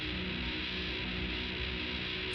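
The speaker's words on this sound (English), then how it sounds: "a heavily saturated, blown out sound to the right." Dark Star Stereo reverb pedal pushed into a heavily saturated, blown-out setting, giving a dense, steady wash of distorted ambient reverb that sustains without a break, fairly loud and alone.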